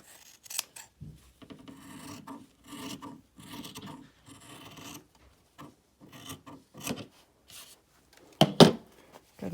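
Scissors snip through the fabric edge of a face mask made from hair binders, with short intermittent crunchy cuts separated by pauses and a louder snip near the end.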